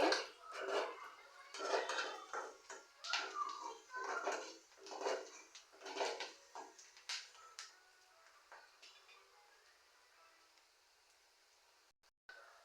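Onions frying toward a light golden colour, stirred in a pan so they don't stick; a spoon clatters and taps in quick, close strokes for several seconds, then the sound fades to a faint background.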